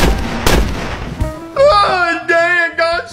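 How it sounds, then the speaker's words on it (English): A single sharp gunshot bursts out near the start of a comedy scene, followed by a voice crying out and talking loudly. "Oh, dang, I got shot!"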